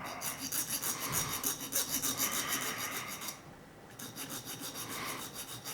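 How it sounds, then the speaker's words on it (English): A finer file works back and forth over the blades of a cheap ruling pen, giving close, regular rasping strokes that stop briefly before resuming, with no talking. "so I can use the finer file and just take those back a bit"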